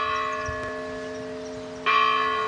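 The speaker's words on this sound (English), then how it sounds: "The church bell, how often does that ring?" An automated monastery church bell rings with sustained, resonant tones that hum on, and then a fresh strike lands near the end, clear and moderately loud against a quiet background.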